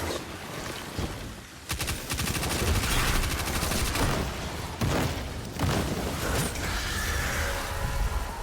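Gunfire in Destiny: rapid machine-gun volleys and sharp shots rattle loudly through a busy battle, with booms and dense effects between bursts.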